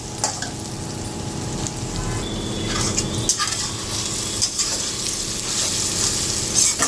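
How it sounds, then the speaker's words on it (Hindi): Dal lentils roasting in a pan, a continuous close sizzle with crackling and stirring scrapes throughout, swelling slightly in the latter half. "हम दाल को अच्छे से भून लेंगे।"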